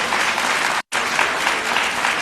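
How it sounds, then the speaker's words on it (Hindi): Dense crowd clapping during a Bhagavat Saptaha religious discourse in Delhi, loud and continuous, broken by a brief silent gap. "थोड़ा तो ताली तो बजाओ भाई।"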